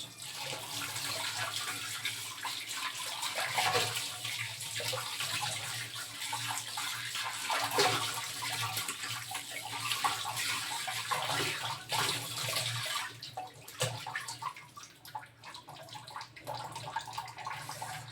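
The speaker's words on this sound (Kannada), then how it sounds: "ನೋಡಿ ವಾಶ್ ಮಾಡ್ತಾ ಇದ್ದೀನಿ ಇವಾಗ" Brass puja items are washed under running water at home, with a steady splashing stream that keeps going throughout and a few shifts in the flow near the end.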